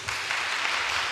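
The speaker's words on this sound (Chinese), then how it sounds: "掌声鼓励。" An audience claps at a church string orchestra's winter recital, producing a brief burst of dense, even applause.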